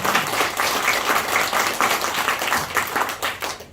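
A church congregation applauds during a service, dense and continuous clapping from many hands, moderately loud and fairly close, lasting a few seconds.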